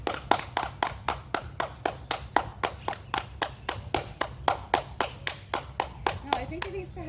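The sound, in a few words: hand clapping reverberating at a Mayan site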